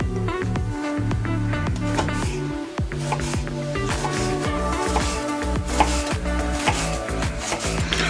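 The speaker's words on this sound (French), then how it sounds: "Entre temps on va déjà s'occuper d'émincer notre oignon." A knife slices through an onion on a board with steady, close chopping strokes in a continuous rhythm, no talking.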